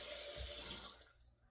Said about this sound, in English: Okay, I'm gonna add some more water